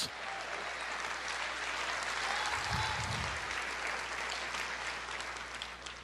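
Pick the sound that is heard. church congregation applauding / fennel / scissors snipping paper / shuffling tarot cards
church congregation applauding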